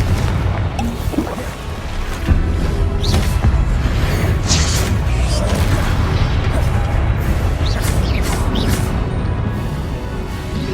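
Loud, dense spell blasts from the Confringo fire curse in the Hogwarts Legacy video game, during Percival Rackham's Trial, as booming explosive bursts that pile over one another continuously with no pauses.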